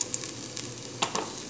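A little garlic sizzles and crackles steadily in hot oil while frying for a chicken maqluba, with a few brief stirring scrapes over the continuous close hiss.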